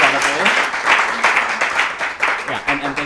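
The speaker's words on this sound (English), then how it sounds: "Please give them a round of applause for being incredible." An audience at a creative workshop applauds a pair of performers on a small stage, steady dense clapping with a voice speaking over it, moderately loud and close.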